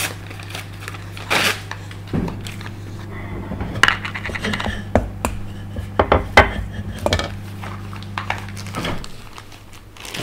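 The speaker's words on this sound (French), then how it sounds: "on va concasser les noisettes, assez fin." Hazelnuts being crushed finely with a rolling pin inside a piping bag in a pastry kitchen, giving irregular hard cracks and knocks over a steady low hum, no talk.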